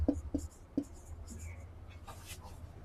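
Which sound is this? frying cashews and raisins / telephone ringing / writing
writing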